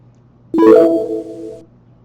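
A short synthetic whooshing chime sweeps in as a mock draft message board flies away, holds a bright tonal note for about a second, then fades out over a faint steady hum.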